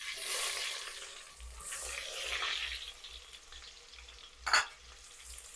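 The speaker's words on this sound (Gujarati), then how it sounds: "આપણું તેલ ગરમ થઈ ગયું છે. થોડું અંદર નાખશું જીરું. એની અંદર નાખશું ડુંગળી." Cumin seeds and chopped onion fry in hot oil in a pan, making a steady, close sizzle that swells and fades as the pan is stirred, with one sharp clink of a utensil near the end.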